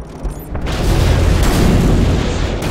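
Heavy explosions from a direct hit in Modern Warfare 2, a dense, loud low rumbling boom that swells after a brief lead-in and rolls on continuously without letup.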